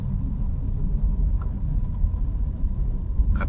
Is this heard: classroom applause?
no